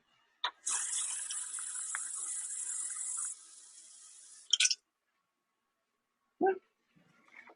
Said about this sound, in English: then I fill it up with water